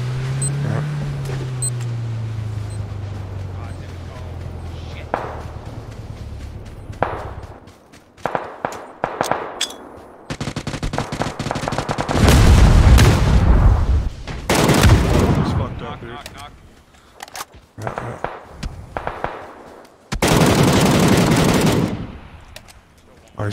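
Automatic and single gunfire with grenade explosions in the PUBG battle royale game, played duo on Xbox Series S; bursts of shots and loud blasts come in clusters, with a heavy stretch near the middle and another late, and voices talk in between.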